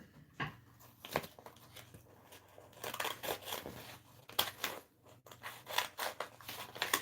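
Scissors snip out a paper transfer piece for a Dixie Belle patina paint project, a close series of crisp, irregular cutting snips with soft paper rustles and crinkles between them.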